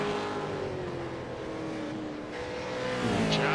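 A race car engine in the iRacing simulator drones steadily at moderate volume around the Long Beach street circuit, with a slight rise in pitch near the end.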